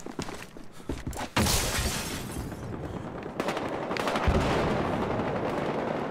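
M416 assault rifle fire in the video game Battlefield Hardline comes in dense, rapid bursts of gunshots with sharp cracks and a continuous rattle, loud and up close, with no talking.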